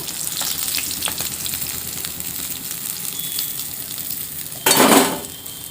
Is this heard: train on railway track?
no